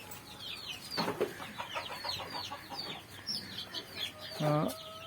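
Country chicks cluck and chatter nearby in short bursts, with one bird letting out a louder call near the end.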